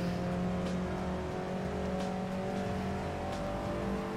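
A race car engine in Assetto Corsa holds a steady, loud drone with no clear revving rise or fall, close and continuous throughout.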